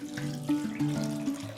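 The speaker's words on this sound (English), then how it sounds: "At this stage, you can add 1 liter of ice water." Ice water pours into lemon sherbet ingredients, a quiet gurgling stream with shifting bubbly tones heard up close with no talking.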